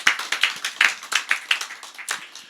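Church congregation clapping in thanks during a sermon, a rhythmic burst of fairly loud hand claps close by, slightly uneven and fading toward the end, with no talking.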